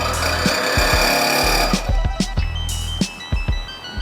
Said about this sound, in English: It's a reciprocating saw.